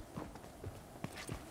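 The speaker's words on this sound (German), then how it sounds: "ich höre jemanden rennen" Running footsteps in the video game Fortnite, a quick series of soft, fairly faint thumping steps in an irregular rhythm.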